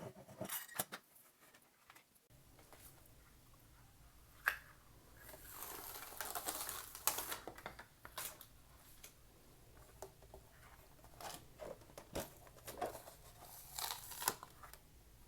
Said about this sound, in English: I am going to send it to my Cricut to cut